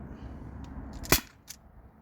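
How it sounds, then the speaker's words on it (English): A single sharp shot from an Umarex HDP50 pistol firing an 8.4 gram steel ball bearing, loud and close, with a faint smaller snap about a second later against a low background hum. "Fifth shot."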